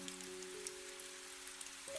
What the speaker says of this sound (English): the sound of rain